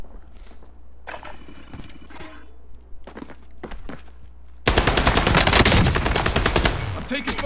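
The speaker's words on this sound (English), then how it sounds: "I'm taking fire here." Gunfire rings out in a video game: a few scattered shots at first, then dense, loud rapid automatic fire that keeps rattling to the end.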